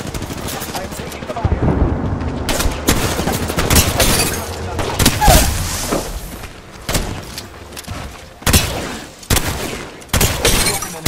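Rapid automatic gunfire and explosive impacts in Apex Legends, dense bursts in close succession with brief gaps and sharp shattering hits, loud and near, with a voice speaking under the shots.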